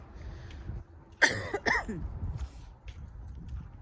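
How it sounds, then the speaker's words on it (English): Two sharp, harsh coughs in quick succession, close and fairly loud, followed by quiet breathing and faint movement. "I can't get rid of this cough."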